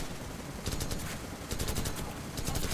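Rapid bursts of helicopter gunfire in Call of Duty 4: Modern Warfare crackle in a few quick volleys, harsh and close, without any speech.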